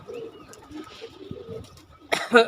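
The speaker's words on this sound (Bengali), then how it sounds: "আমার এখানে কবুতর আছে" Soft, low coos from breeding pigeons with nesting pairs repeat in a quiet space, followed by a brief burst of fluttering and scuffling near the end.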